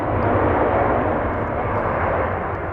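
An Emirates airliner arriving at LAX: a steady, loud, broadband jet roar that fills the clip with no breaks, heard from nearby with no talking.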